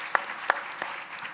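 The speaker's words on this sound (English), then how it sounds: "Y'all should give her a round of applause for that," A few scattered hand claps at a panel talk on social justice and cannabis, three or four sharp, sparse claps fading quickly in a quiet room.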